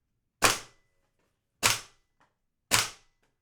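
Airsoft rifle on a green gas magazine firing semi-auto, three sharp, loud cracks spaced about a second apart with short decays and silence between.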